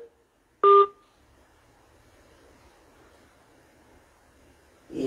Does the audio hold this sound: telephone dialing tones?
yes